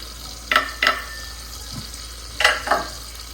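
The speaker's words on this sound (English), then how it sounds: "In goes the garlic, so make sure the garlic doesn't burn" Garlic frying in a pan for sweet corn soup, with a low sizzle broken by a few sharp scraping stirs of a spoon against the pan, close by and alone.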